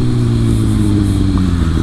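A Kawasaki Ninja ZX6R sports motorcycle engine pulling hard under acceleration, a loud, close, continuous droning roar with no voices over it.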